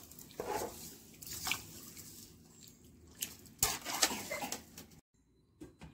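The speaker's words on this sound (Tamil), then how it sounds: "இந்த மாதிரி சுடுதண்ணி ஊற்றி ஒரு ரெண்டு மூணு ட்ரிப்பு நல்லா கழுவி எடுத்துருங்க." Goat intestines are washed in hot water with intermittent squishing, splashing and dripping as they are kneaded by hand, close and fairly quiet, with brief gaps of near silence.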